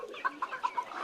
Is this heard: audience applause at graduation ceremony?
no